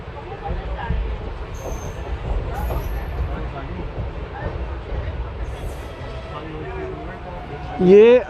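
The 11274 Vindhyachal Express passenger train rumbles and clatters at a small station stop such as Bhitoni, a steady mechanical drone under ongoing voices, ending in a louder rising whine.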